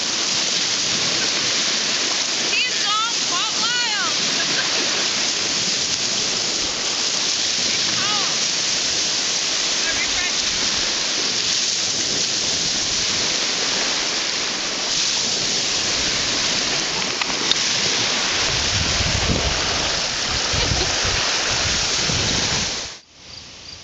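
Water flowing and lapping along a shore, a steady broadband wash that runs continuously and fairly close, with a voice briefly audible over it near the end.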